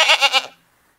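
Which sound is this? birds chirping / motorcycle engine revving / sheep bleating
sheep bleating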